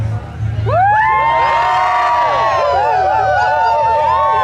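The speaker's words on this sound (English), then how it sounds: "Right, so I'm going to do something, you're going to cheer." Pride event crowd in Tavistock, Devon, bursting into loud cheering and whooping on cue, high excited voices swelling together and sustained near the listener.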